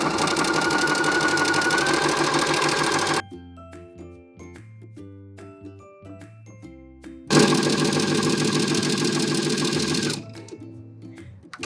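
Domestic sewing machine running a narrow, dense zigzag stitch in two loud sustained bursts, with quieter pauses between them filled by soft mechanical clicks and handling.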